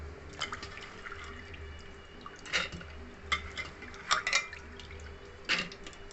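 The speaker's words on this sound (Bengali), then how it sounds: "সব ছোলার ডালগুলোকে এর মধ্যে দিয়ে দিচ্ছি।" Soaked chana dal tipped into a mixer grinder jar in a home kitchen, heard as a few soft wet patters and small clinks spread across the moment, fairly close, with a low steady hum underneath and no talking.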